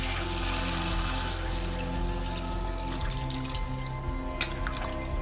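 Water poured into a pan of potol, potato and prawn curry, a steady close liquid rush with a constant low hum underneath and a brief clink near the end.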